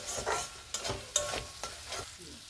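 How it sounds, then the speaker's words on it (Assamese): Yogurt-thickened gravy for an Assamese eggplant (bengena) curry frying in a pan, a soft sizzle broken by a run of rhythmic stirring scrapes, about six strokes, close and fairly quiet. "আৰু দৈখিনি এড কৰাৰ পিছত মই গ্ৰেভিখিনি আৰু 2 মিনিট টাইম ফ্ৰাই কৰি ল'ম"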